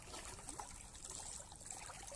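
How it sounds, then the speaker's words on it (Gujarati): Irrigation water trickles and flows steadily into a wheat field in a quiet, continuous wash, heard from a little distance with no voices. "અત્યારે અહીં જો પાણી આવી ગયું જોરદાર"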